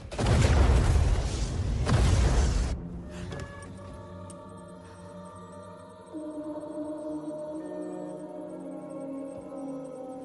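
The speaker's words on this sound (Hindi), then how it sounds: "सॉरी सर, मिसाइल लॉन्च हो चुकी है। 30 सेकंड में धमाका हो जाएगा।" A loud, close missile explosion with a heavy low rumble, followed by a second burst and then a long ringing, droning tail that fades slowly.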